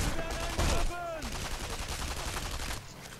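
Gunfire in the Sniper Elite V2 video game: a burst of shots near the start with a loud crack just after half a second, then a dense, steady clatter of game sounds.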